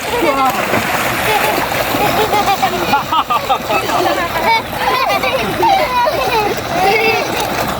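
Water splashes steadily and loudly as people bathe under a tubewell in a village, with voices talking over the continuous splashing throughout.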